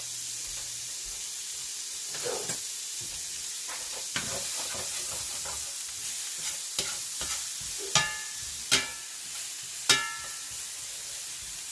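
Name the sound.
sliced onion sizzling in a pan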